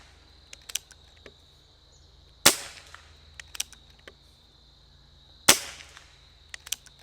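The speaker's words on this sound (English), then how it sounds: "I'm just going to keep on shooting so you get a look at 48 shots" A Benjamin Cayden air rifle fires two sharp, loud cracks a few seconds apart, each followed by quick mechanical clicks of cycling the action, with small ticks scattered in between and no talking.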